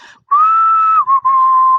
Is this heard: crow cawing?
no